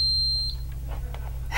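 Red contestant buzzer at a trivia night game show in Lake Orion, a loud electronic beep lasting about half a second, followed by quieter room noise.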